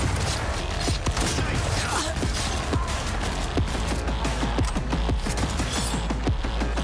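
Gunfire in the video game Cyberpunk 2077: dense, continuous bursts of shots with sharp repeated cracks and mechanical clatter, loud and sustained throughout.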